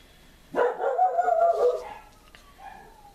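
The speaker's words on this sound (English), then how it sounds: "Dogs are outside." Dogs outside give one drawn-out, wavering howl-like bark lasting over a second, somewhat distant and muffled, followed by faint lingering whines.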